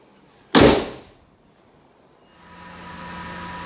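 The engine bay lid of a 2008 Mercedes-Benz SLK200 1.8 convertible, held by hydraulic struts, shuts with one loud, sharp slam, then fades into quiet with a faint low hum of background ventilation.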